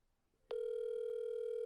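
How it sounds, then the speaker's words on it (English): A phone or laptop alert sounding during a podcast: a sudden steady electronic tone starts and holds, clear and alone with no talk over it. "That sounds like my phone."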